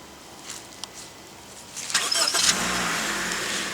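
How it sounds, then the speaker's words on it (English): 2015 Honda Civic EX Coupe started by remote starter: a couple of faint clicks, then a brief cranking burst and the engine catching into a steady, close idle. "2015 Honda Civic EX Coupe in Dyno Blue Pearl with remote car starter"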